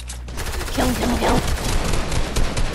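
Rapid bursts of gunfire crackle through a video game battle, dense and continuous, with a voice briefly heard over the shooting.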